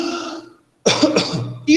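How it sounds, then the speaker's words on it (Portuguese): A person demonstrates coughing during a first aid workshop, giving three or four sharp, close bursts in quick succession after a brief silence. "Isso é tosse."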